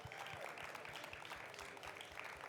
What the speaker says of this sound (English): I'd love for us all to give a tremendous round of applause to our panelists here